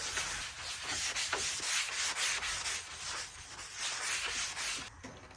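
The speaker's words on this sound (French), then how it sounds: "l'éponge magique, elle gratte déjà un peu" Magic sponge sanding a car headlight on a Suzuki Swift, brisk back-and-forth rubbing strokes in a steady, close rhythm with no talking.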